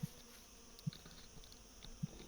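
Honey bees buzz faintly around a hive queen cell, a soft insect drone with a few sharp low knocks or taps at intervals.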